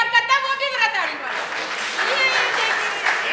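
At a live stage drama, a voice talks briefly before the audience breaks into sustained clapping. The applause runs under some continuing talk until the end.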